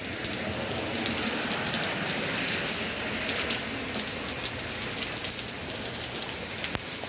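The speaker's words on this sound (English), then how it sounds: "See, it's raining so hard" Heavy rain pounds down steadily on a porch, a dense, constant hiss of drops close by with occasional sharper patters.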